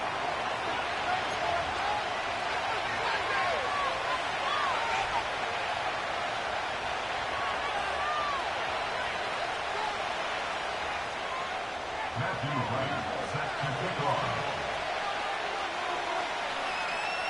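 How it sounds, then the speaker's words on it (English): A large stadium crowd in an EA Sports American football video game fills Nissan Stadium in Nashville on a rainy night, a steady, dense roar running throughout under commentary. "A great crowd on hand to battle the raindrops at Nissan Stadium in Nashville."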